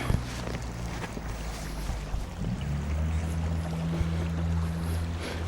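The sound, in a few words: water flowing around boots while wading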